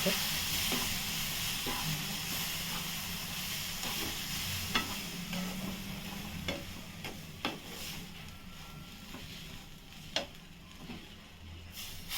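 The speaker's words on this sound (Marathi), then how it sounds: "ह्याच्यातनं आपण दूध टाकायचं कोमट दूध टाकायचा थोडं थोडं करून टाकायचं" Warm milk is poured little by little into a rava and coconut mixture in a pan for modak while it is stirred, giving a steady sizzling hiss with scattered scraping clicks of the spoon throughout.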